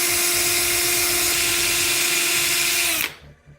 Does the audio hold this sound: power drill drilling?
yes